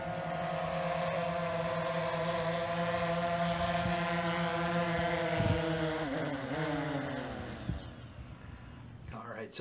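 A DJI Phantom drone comes in to land, its steady high-pitched motor and propeller whine loud and continuous, then wavering and dropping as it touches down near the end.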